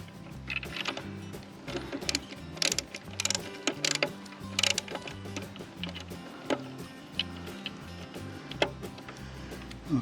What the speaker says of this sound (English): Grab the screwdriver.